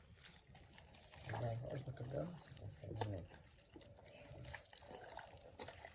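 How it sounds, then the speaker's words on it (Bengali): Water splashes and runs over palm fruit while it is rubbed for taler bora, a Bengali palm fritter, giving an uneven wet splashing and trickling with drips, close by, faint talk underneath. "এই দেখুন এবার তালের উপর জল দিয়ে দেওয়া হবে।"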